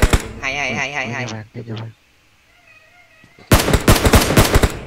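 Gunfire in PUBG Mobile erupts as a rapid burst of automatic shots, loud and close, following a stretch of voices and game sounds.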